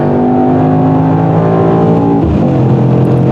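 A 2021 Mercedes-AMG E63 S sedan engine drones loudly and steadily while driving, then the pitch drops sharply near the end as the revs fall or the car shifts gear.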